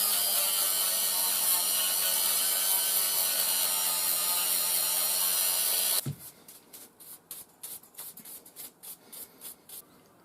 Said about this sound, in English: I'm going to get the Dremel out again, and any ridges I'm going to smooth them off